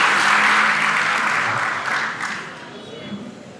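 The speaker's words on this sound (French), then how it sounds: "Je vous demande d'applaudir Panos" A hall audience at a scientific closing ceremony bursts into dense, loud applause that gradually thins and fades over a few seconds, with a few scattered claps and faint murmurs remaining at the end.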